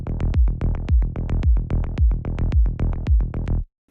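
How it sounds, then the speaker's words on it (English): Psytrance stereo synth bassline pulsing in a fast, even rolling pattern of punchy repeated notes, loud and alone, stopping abruptly after a few seconds. "this LFOtool here allows me to go from a stereo bassline that sounds like this"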